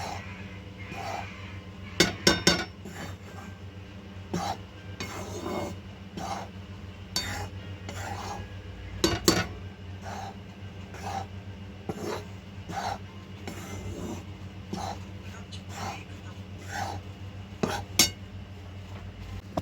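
Fenugreek ladoo mixture is stirred now and then as it roasts in a pan over low heat, with scattered scraping rasps and a few sharper metallic clinks over a quiet background hum.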